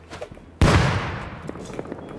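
A single sudden loud explosion in the game Rust booms after a quiet moment, then rumbles and decays over the next second and a half.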